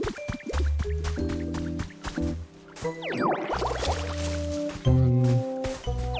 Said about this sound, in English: So use water gun to revive 10 patches of dry tall grass.